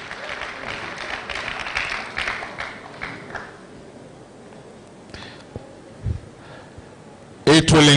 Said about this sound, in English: Please, another round of applause for our Vice-Chancellor.